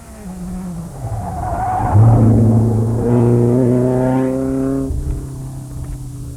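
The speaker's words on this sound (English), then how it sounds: "That being Eamon McAleenan from Castlewellan in a Ford Escort, and down the long stretch of road now, coming into this bend." Ford Escort rally car on a road stage racing down a long straight into a bend, engine loud and close with rising revs, gear changes and a cut near the end, no talk.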